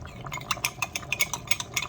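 Cornstarch is stirred into a paste for beef stew gravy, a utensil clinking rhythmically against a bowl in quick repeated strokes, close and alone.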